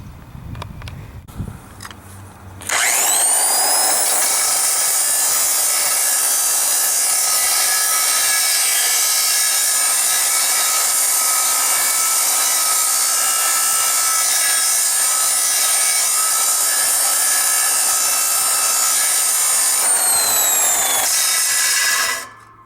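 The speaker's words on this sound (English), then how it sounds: "Time to use the big boy grinder." A loud, steady high-pitched whine from a large grinder cutting through a metal air tank, running continuously for about twenty seconds before spinning down.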